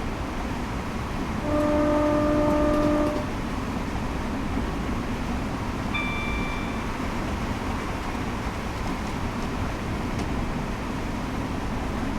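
A Class 465 Networker electric train in Train Simulator 2019 sounds a steady two-tone horn for about a second and a half, then gives a second, higher and shorter blast, both over a constant rumble of running gear.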